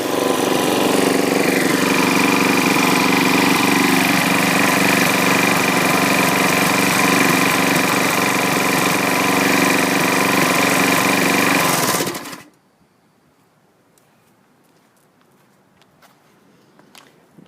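A well-used lawn mower engine runs loud and steady with a carburetor fault and a saturated air filter, then cuts out abruptly, leaving near silence with a few faint clicks.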